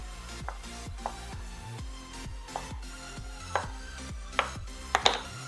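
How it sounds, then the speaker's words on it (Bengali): Knife chopping paneer cheese into pieces on a board, a steady series of about ten close, crisp cuts at an even rhythm, alone without talk. "পনিরটা আমি কেটে নিচ্ছি"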